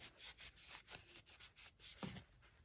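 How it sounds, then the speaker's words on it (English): A rag rubbing dust off an old fan motor during a rebuild, quick rhythmic back-and-forth scrubbing strokes, close and fairly soft. "just kind of rubbing some of that dust off"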